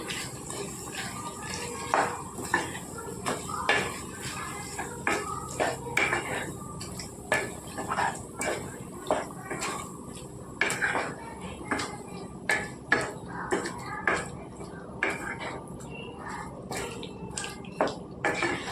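A utensil repeatedly scrapes and clanks against a pot as marinated chicken is stirred with fried onions, sharp metallic hits in an uneven rhythm over a low kitchen background, close by and with no talk.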